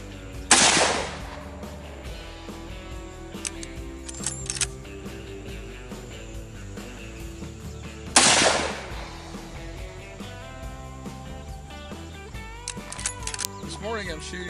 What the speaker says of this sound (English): This morning I'm shooting my Remington Model 700 chambered in 270.